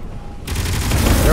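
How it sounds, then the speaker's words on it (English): Cannons fire in the space game Space Engineers, starting abruptly as a dense, loud rolling barrage of rapid blasts that builds over about a second. "Yeah, we'll just let our cannons do the work."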